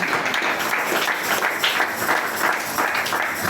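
A church congregation applauding, steady loud clapping from many hands filling the room without a break.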